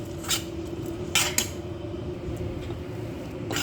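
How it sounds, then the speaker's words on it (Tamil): A spoon clinks and scrapes against a pot as beaten rice is stirred into banana flower dal, a few brief metallic knocks over a low steady background hum, no talking. "இதை இதில் சேர்த்துருவோம் போட்டு நல்லா கிளறிடுவோம்"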